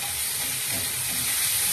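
Spiced fish curry with mustard, poppy seed, chili, ginger-garlic paste, tomato and onion sizzles in a pan as it is stirred, making a dense steady hiss, close and loud, with no talk.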